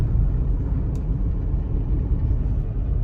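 A Tata Punch car cruising along at steady speed for fuel economy, heard from inside as a constant, loud, low engine drone and road rumble with no breaks and no voices.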